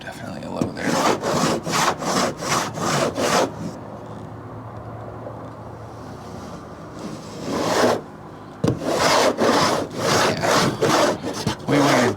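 Bondo body filler on an old GMC 3500 truck's bodywork is sanded by hand in rapid rasping strokes, a burst of about seven, a pause, then another steady run of strokes, close and fairly loud.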